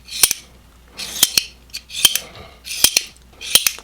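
A Reate EXO-M titanium gravity knife snaps open and shut about six times, each action a crisp close metallic click-clack in a quick pair, with short quiet gaps between.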